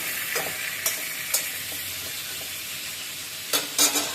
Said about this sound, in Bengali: চিকেনটাকে একটু নেড়ে ছেড়ে মিশিয়ে দিচ্ছি, যেন ওই যে পেঁয়াজ ভাজার গানটা যেন চিকেনের ভিতরে লেগে যায়